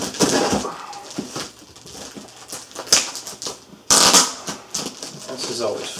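Scissors cut and tear through layers of old packing tape on a mailed cardboard box, with crinkling, snipping and scraping bursts in an irregular rhythm, close to the microphone.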